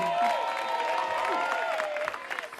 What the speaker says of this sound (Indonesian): tepuk tangan sekali lagi buat Selvi